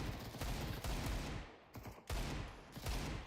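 Rapid bursts of rifle gunfire in the video game Counter-Strike 2, several loud close volleys separated by brief pauses, with no talking.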